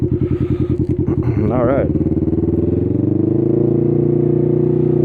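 A Can-Am Ryker three-wheeled motorcycle with aluminum ShowChrome boards riding along, its engine pulsing steadily and close, then revving up briefly before settling into a smooth cruising drone; someone speaks briefly at the start.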